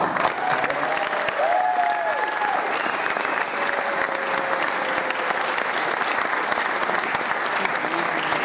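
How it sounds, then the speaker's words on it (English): Steady, full applause from a high school gym crowd at a National Signing Day ceremony for student athletes, sustained and even throughout with faint voices beneath. "give them a round of applause"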